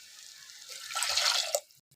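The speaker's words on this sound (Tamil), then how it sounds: "இதில் வந்து 2 டம்ளர் தண்ணி சேர்த்துக்கலாம்." Water from a tumbler is poured into a cooking pot for ghee rice, a short close splashing pour of about a second that tapers into a few drips before quiet.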